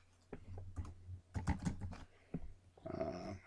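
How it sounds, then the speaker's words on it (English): Keys on a computer keyboard are typed while entering a simple password, with short bursts of clicks separated by pauses, followed by a denser clattering run at the end. "I'm just going to type in a very simple password."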